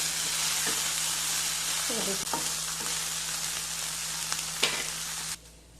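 Soya chilli frying in a pan, with a loud, steady close sizzle and occasional scrapes as it is stirred, then the sound suddenly drops away near the end.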